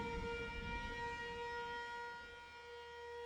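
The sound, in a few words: droning storm siren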